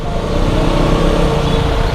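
Dense traffic jam on a one-way road near Pali on the way to Khopoli, with a steady wash of car and vehicle engine noise idling and creeping close by, continuous with no clear horns or voices.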